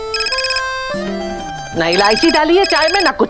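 A telephone rings at home during a family scene in a Hindi TV drama, a bright electronic ringtone pattern repeating in short bursts, while someone speaks over it.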